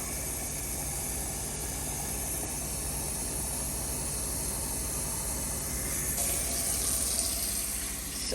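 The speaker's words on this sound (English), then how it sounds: "And then I'm going to add 3 cups of hot water." Hot water pours steadily into a pot of toasting rice on a home stovetop, a continuous broad hissing splash that holds even for several seconds and brightens slightly near the end, with no talking.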